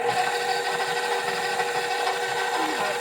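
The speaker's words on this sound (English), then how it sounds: "I'm hoping you can hear me over this mixer" A steady mechanical whir and grinding churn runs without pause, close and fairly loud, a stand mixer with a kneading hook working dough.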